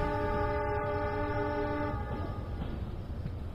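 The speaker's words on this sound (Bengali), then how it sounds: "তার পেছন থেকে একটা ট্রেন এসে মহিলাকে পিষে দেয়" A train sounds a long, loud, steady horn over the rumble of its passing, then the tone cuts off and the rolling rail noise continues.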